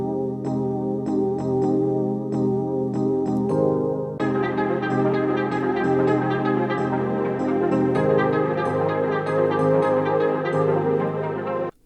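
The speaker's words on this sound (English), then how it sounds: "To spice up these electric keys even more," Electric keys processed with an RC20 plugin, playing warm chord stabs in an even rhythm with crisp percussive clicks over them. Midway the chords grow fuller and brighter, and the pattern continues steadily with no voice.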